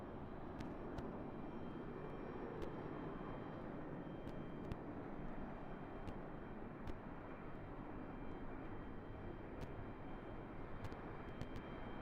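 A jet airliner landing at Raleigh-Durham International in a crosswind and tailwind holds its thrust reversers on unusually long, making a faint, steady distant roar.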